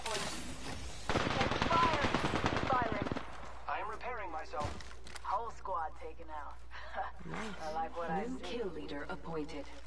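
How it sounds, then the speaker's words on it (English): Enemy gunfire in the Apex Legends video game: a loud, dense burst of rapid shots for about two seconds, followed by someone talking over quieter game sounds. "The enemies are shooting at me."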